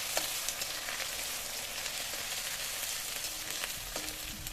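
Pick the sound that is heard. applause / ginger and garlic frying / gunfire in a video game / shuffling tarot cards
ginger and garlic frying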